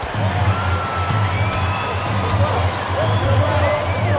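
Simulated basketball arena crowd in NBA 2K25 with Chicago Bulls fans, a steady loud roar of cheering and hubbub filling the whole stretch beneath a game commentator's talk.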